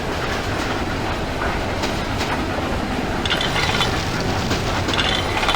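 Simulated steam locomotive, a Victorian Railways V Class in Trainz Railroad Simulator 2019, hauling a train with a loud steady rolling rumble and repeated rhythmic clanking and ratcheting wheel noise, no voices.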